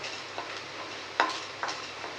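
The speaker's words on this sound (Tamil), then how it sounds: "பருப்பெல்லாம் நல்லா வறுத்துக்கோங்க" Lentils and coriander seeds dry-roasted in a pan, stirred with a spoon: a low steady crackle with a few louder scraping strokes, close and without talk.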